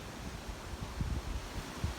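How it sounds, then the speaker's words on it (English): Wind buffets the microphone steadily outdoors, a low rumbling rush with brief stronger gusts. "It's breezy out here."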